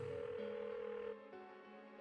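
A telephone rings without being answered in the Persona 4 video game, giving a steady electronic tonal burst that drops in level partway through and then continues more faintly, with no voices.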